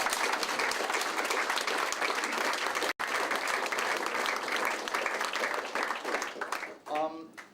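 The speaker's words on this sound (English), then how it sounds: "Give them a big round of applause, please." Audience applause after a list of names is read out, sustained clapping from a crowd at steady level, tapering off near the end as a voice begins to speak.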